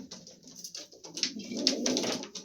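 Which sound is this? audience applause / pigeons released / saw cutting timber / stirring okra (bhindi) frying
pigeons released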